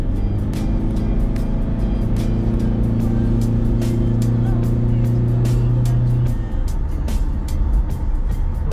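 A Toyota Innova diesel engine idles and revs steadily in an exhaust test, a loud continuous rumble with a sustained raised tone that drops back near the end, with sharp clicks over it.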